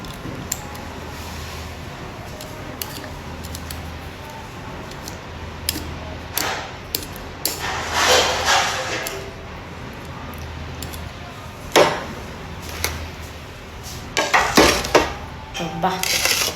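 A knife slicing papaya on a plate, heard as sporadic clicks and scrapes of the blade against the plate, with a denser burst of cutting in the middle and a cluster of sharp taps near the end, close by and fairly quiet.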